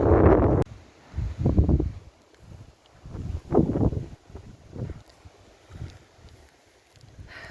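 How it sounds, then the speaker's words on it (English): Gusts of wind on the Pennine Way between Keld and Middleton-in-Teesdale buffet the microphone in uneven rumbling bursts, loud at first and then rising and falling, with no voices. "Still really windy."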